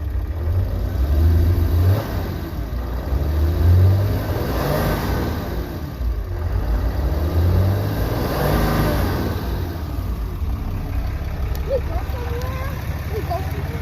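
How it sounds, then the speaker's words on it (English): A car engine revs up in a few swelling surges over a steady low idle, loud and close. "Give it a little bit of gas."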